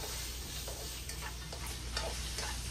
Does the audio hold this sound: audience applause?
no